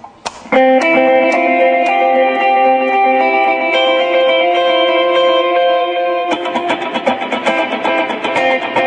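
Sustained electric guitar notes ring out with dotted-eighth delay repeats trailing between them, then a rhythmic passage sets the delay bouncing in quick, overlapping echoes.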